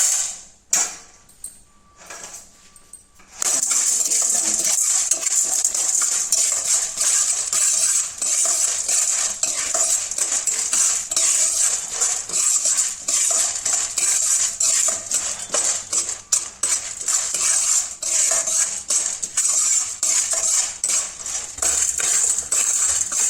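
Chana dal roasting in a pan with cutlery-like clinks and scraping of stirring, continuous and close, after a brief quieter start; no talk.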